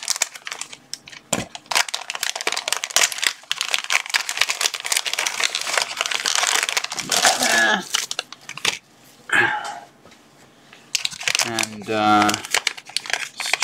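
Packaging being cut and torn open to free tools and Arduino Uno boards, with crinkling, crushing plastic noises through much of the stretch, broken by a few short spoken words and closer tearing bursts near the end.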